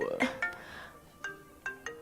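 A mobile phone rings in a restaurant with a short melodic ringtone of bright, tonal notes in quick repeated phrases, heard close and fairly clear against quiet room noise.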